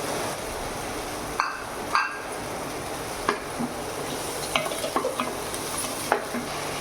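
Onion and tomato pieces sizzle steadily in a pan while a utensil stirs them, making occasional scraping clinks over the continuous close frying hiss.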